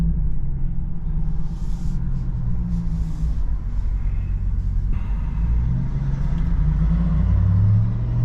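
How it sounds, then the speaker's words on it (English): A Ram TRX pickup truck drives steadily, its engine a low continuous rumble with road noise and a slight rise in revs toward the end; no talking over it. "All right, so we're still driving."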